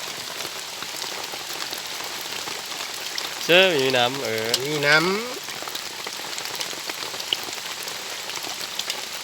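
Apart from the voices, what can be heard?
rain falling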